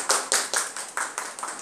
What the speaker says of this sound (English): Girls clap.